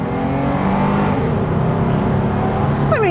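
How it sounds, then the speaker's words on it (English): A twin-turbo automatic sports car pulls at full throttle, a steady engine drone heard from inside that builds gradually, with a rising whine near the end; fairly loud, no talk. "Acceleration, full throttle."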